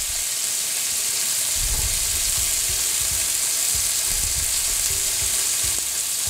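Garlic frying in hot oil, a loud, steady, close-up sizzle with bright hissing throughout and a few low stirring bumps.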